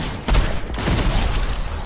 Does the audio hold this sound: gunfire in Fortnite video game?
yes